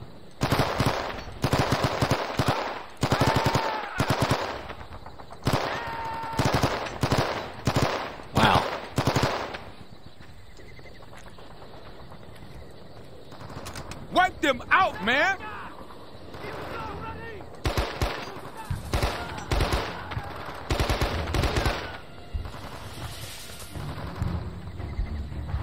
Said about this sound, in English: I got two light machine guns, one in M60.